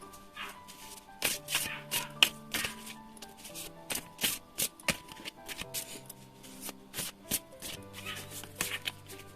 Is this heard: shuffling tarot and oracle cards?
yes